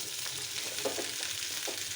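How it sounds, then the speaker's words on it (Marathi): Onion sizzles in hot oil in a heated kadhai, a soft steady frying hiss with a few brief stirring scrapes, fairly quiet and with no talk. "कढई तापायला ठेवलेली आहे आणि आता मी त्यात कांदा टाकून घेते"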